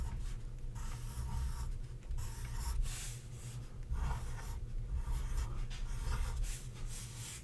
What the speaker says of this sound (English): so that's what I'm going to draw on each